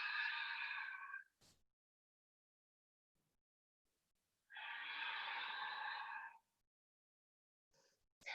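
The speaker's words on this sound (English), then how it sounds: "Taking some deep breaths." A person takes slow, deep breaths during a yoga session, two long audible exhales several seconds apart, close and soft in an otherwise quiet room.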